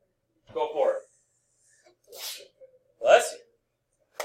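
A sharp sneeze rings out after a brief sharp intake of breath, with a short vocal sound before it in an otherwise quiet room.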